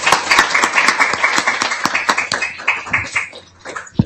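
A town hall audience gives a short burst of applause, dense close clapping that thins out and fades over a few seconds, with a couple of final claps at the end.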